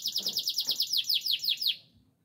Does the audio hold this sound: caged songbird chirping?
yes